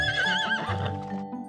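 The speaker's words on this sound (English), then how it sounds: "Oh, a horse." An animated horse neighs with a wavering whinny, followed by hooves clip-clopping, loud and close, with no talking.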